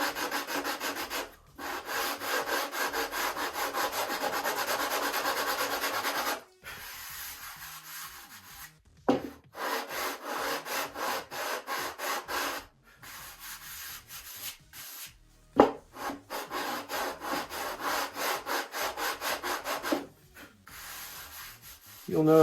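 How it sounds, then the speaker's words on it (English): Hand sanding on a wooden wing spar of a Top Flite P-40E Warhawk model build, with rhythmic rubbing strokes in several bursts separated by short pauses, close and moderately quiet. "Once again, I'm only sanding on that spar."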